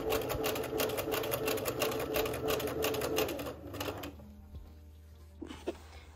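A sewing machine stitches a dress in rapid, even bursts for about four seconds, close and loud, then stops, leaving quiet room tone with a few small clicks.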